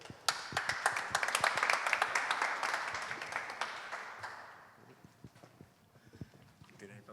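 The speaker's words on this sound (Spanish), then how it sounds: "un fuerte aplauso para Loco Malito y para Grisor" Applause from a panel audience at a video game and culture event, crisp claps swelling into a busy patter, then thinning to scattered individual claps as it fades, fairly quiet.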